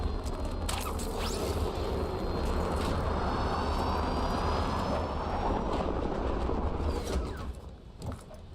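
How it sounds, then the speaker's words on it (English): A helicopter ride in the video game Warzone brings a steady, loud roar of rotor and engine that runs unbroken and alone before it eases slightly near the end. "we get the lonely helicopter ride by ourselves"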